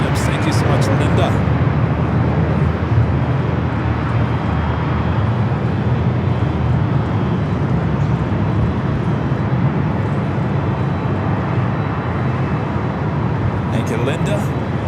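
Alaska Airlines Boeing 737-800 jet at LAX, a steady loud roar of engine and airport noise filling the whole stretch, with brief clatter near the start and end.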